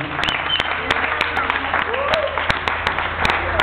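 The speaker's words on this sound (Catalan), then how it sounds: "un aplaudiment per Sallent de Tutupà" Scattered, uneven clapping from an audience at an event in Ciutadella, Menorca; sharp individual claps ring out at irregular intervals while people keep talking underneath.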